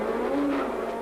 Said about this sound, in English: The car slithers as it lands.